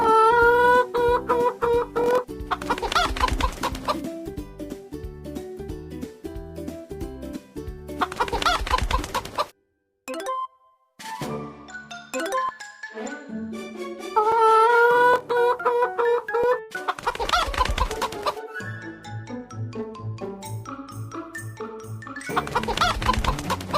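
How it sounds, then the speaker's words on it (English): Cartoon chickens cluck repeatedly in a children's ABC learning game set in a chicken coop, bright bursts of clucking alternating with upbeat game music and short effects, with a brief quiet gap midway. "Tap on a chicken to pet it."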